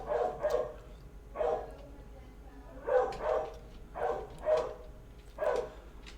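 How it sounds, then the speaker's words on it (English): A dog barks in a medium-distance room, about eight sharp woofs coming singly and in pairs with short gaps, over a faint low hum. "That's my dog, Blue. He's barking"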